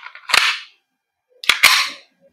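Two sharp gas blowback shots from a KJWorks CZ Shadow 2 airsoft pistol, each a loud crisp crack with a short slide clack, separated by about a second of silence, the second pair of reports close together.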